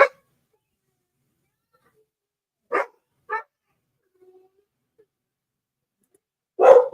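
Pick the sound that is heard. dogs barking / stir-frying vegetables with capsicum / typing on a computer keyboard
dogs barking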